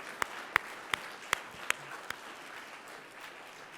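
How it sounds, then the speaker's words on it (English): Audience applause at a computer science department summit. Faint, steady crowd clapping is broken by several sharper claps close by at a regular pace, then it tapers off. "Let's give a big round of applause to all the students and all the great work they did and all the sponsors."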